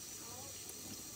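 Wild oyster mushrooms are washed under running tap water, a faint, continuous splashing flow into a sink.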